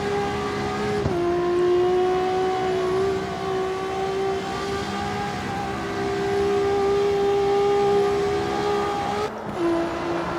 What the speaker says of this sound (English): That's a good sounding car.